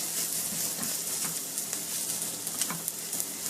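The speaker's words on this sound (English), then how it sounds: "we're going to add our flour and our black pepper, and cook and stir that for a minute just to make a paste" Flour and black pepper sizzle and fry with onions in a hot pan as a roux, a steady hissing crackle with soft stirring scrapes, close up and without talking.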